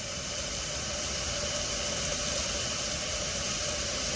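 Steady, unbroken hiss of steam from a Bryan steam tractor boiler at startup, with a low mechanical rumble beneath, sustained and close for the whole stretch.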